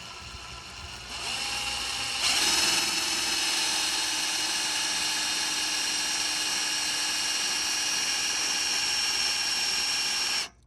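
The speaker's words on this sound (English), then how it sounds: "So I'm gonna drill that out right now." A power drill bores through Louisiana metal for an LED light mount on a Can-Am Defender 6x6: a motor spins up, then a sustained, shrill grinding whine holds steadily for about eight seconds before stopping abruptly.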